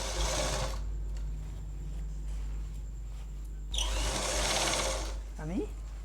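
Sewing machine stitching a seam on a blouse with puffed sleeves, running in two steady mechanical bursts separated by a pause, close and fairly loud.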